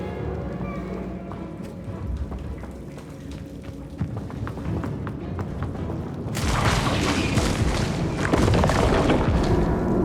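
In Hogwarts Legacy, the Incendio fire spell is cast amid game ambience: a muffled rumble bursts into a loud, broad whoosh of crackling flame that roars on to the end.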